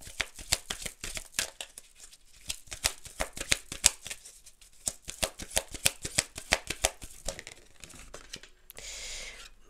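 Playing cards being shuffled for a card reading, a long run of rapid crisp riffles and flutters with brief pauses, ending in a softer sliding rustle.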